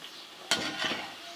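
Fried okra being lifted out of a frying pan, a short scrape and clatter followed by soft stirring and faint sizzling in a quiet kitchen.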